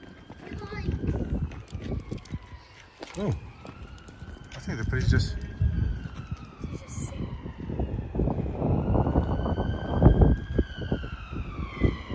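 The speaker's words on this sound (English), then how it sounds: "Can you hear the sirens?" A police siren wails with rising and falling tones, partly masked by loud, hurried talking and clattering movement nearby.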